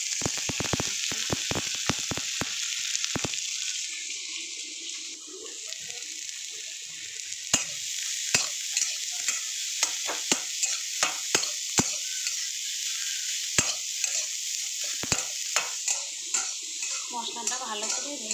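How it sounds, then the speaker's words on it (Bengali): Spice mixture frying in hot oil in a kadai gives a steady, close sizzle, broken by frequent sharp clinks of a spoon stirring against the pan. "মশলাটা ভালো করে ভেজে নামিয়ে ফিরে আসছি"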